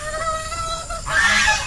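Free-range geese honk in a muddy farm pen, a few calls rising over steady background noise and growing louder and denser toward the end of the short stretch.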